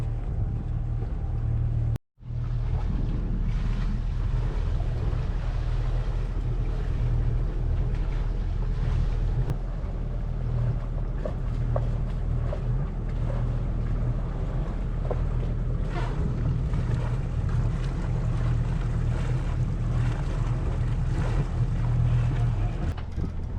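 A sailboat motor-sails with its engine running, a steady low droning rumble under constant wind noise and water wash that continues for over twenty seconds, briefly cut out near the start.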